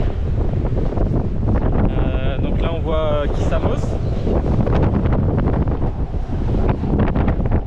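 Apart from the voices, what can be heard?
wind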